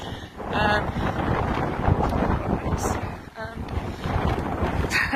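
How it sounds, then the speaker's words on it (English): Gusty wind buffeting a microphone outdoors on a hike across the South Downs, a loud, continuous rumbling roar with surging gusts throughout, briefly dipping before rising again. "It's a bit windy."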